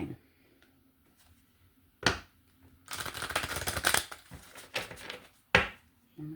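Close tarot card shuffling: a sharp snap, then a dense riffle of papery flutters and a few quick bursts, with no voices.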